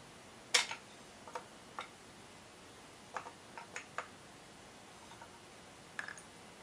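A self-adjusting timing chain tensioner on a Nissan KA24E engine snugs up the chain after its pin is pulled, giving a scattered run of faint, sharp clicks and ticks at irregular intervals with no voices.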